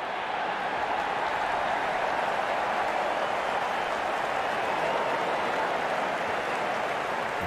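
A large stadium crowd at a India versus Australia T20 cricket match roars and applauds as the opening batters walk out, a steady dense wash of cheering and clapping throughout.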